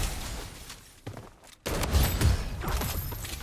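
A full-auto SKS rifle fires in the shooter game Blood Strike. The sound starts as a steady burst that fades, then comes a brief pause, then a loud, dense stream of rapid shots with heavy impacts until the end.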